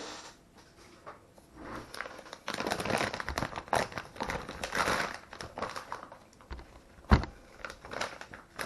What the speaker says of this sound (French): je coupe proprement car j'aime bien récupérer les sachets pour remettre mes bobines dedans